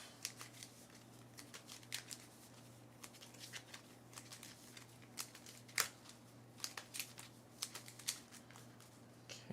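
Playing cards are shuffled in quick riffling bursts over a low steady hum, close and fairly quiet.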